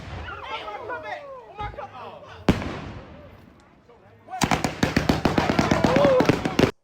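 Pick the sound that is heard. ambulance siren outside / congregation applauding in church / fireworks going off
fireworks going off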